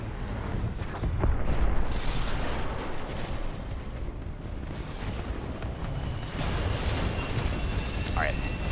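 A titan ejection in Titanfall 2, booming explosive blasts and rumbling bursts of in-game combat noise, loud and close, with someone talking over the action.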